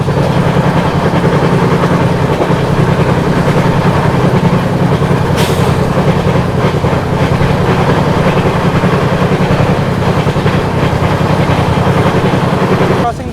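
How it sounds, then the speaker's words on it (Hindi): A goods train on the line toward Wardha Junction rolls past with a loud, unbroken rumble and steady wheel clatter lasting the whole stretch, heard up close. "देखिए उस ओर से गुड्स ट्रेन भी निकली है"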